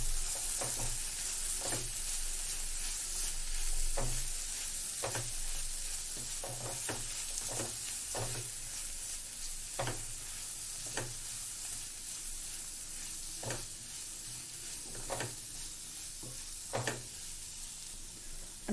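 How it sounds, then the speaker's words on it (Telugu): Mushrooms fry in a pan with chili powder just added, a steady soft sizzle broken by repeated rhythmic scrapes and taps of a spoon stirring them, fairly quiet and close, with no talking. "మిక్స్ చేసుకుందాం కారం వేసాక."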